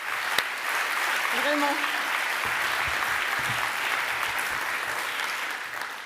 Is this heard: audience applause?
yes